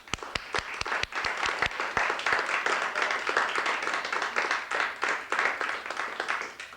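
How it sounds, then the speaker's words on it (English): An audience at the 2004 PEGASYS Awards breaks into applause. A few separate claps swell quickly into dense, sustained clapping that holds loud until the end. "Give them one more round of applause."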